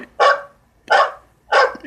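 A dog barks three times in an evenly spaced rhythm, loud and close, in a horror film about attacking dogs on an island.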